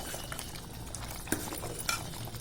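A spoon stirs simmering chicken curry with coriander powder in a pot, giving a soft, continuous bubbling scrape with two sharper metallic clinks against the pot, close up and without speech.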